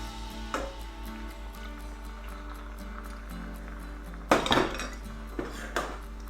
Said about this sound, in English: And just stir all of this here together and just let this here come.